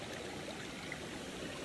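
Water flows steadily from a freshly unclogged drain pipe at a pond, a continuous close rushing trickle with no other sounds.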